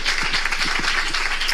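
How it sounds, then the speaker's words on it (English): Audience applause at a conference on faith and religious identification, a dense, steady wash of many hands clapping throughout, loud and sustained with no break. "Can we make that round of applause more?"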